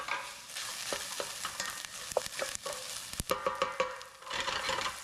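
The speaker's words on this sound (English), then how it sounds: "just stir these around, sweat out the onions a little bit" Onion and garlic sizzling in olive oil for a homemade marinara, a soft steady crackle broken by scraping stirs and clicks of a utensil against the pan, close and fairly quiet.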